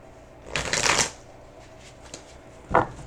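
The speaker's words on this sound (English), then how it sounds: "Let me shuffle real quick." Tarot cards being shuffled close by in a quick riffling burst, followed by a short pause and a brief final snap of cards.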